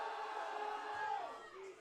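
A powerlifting meet crowd cheers and shouts in a brief, moderately loud swell, mixed with some voices.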